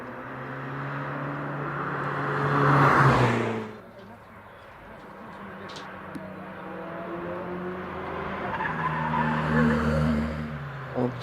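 An Abarth race car climbs the Prescott hillclimb course during practice, its engine note swelling to a loud pass before fading, then rising again in the distance, with a commentator talking over it.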